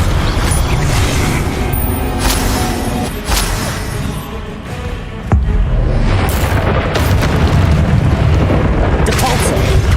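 Spell effects from the Hogwarts Legacy video game, including ice, fire and force-push casts, layered as dense booming impacts and crackling bursts with rumbling texture throughout, loud and continuous with a brief dip midway.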